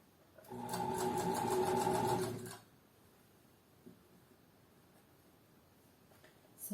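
A sewing machine runs in one steady, fast burst of about two seconds while stitching a sleeve to its cuff, then stops, leaving a quiet room with faint handling noises.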